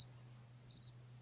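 A single cricket gives a short burst of three or four quick high chirps over a quiet low hum, faint and sparse.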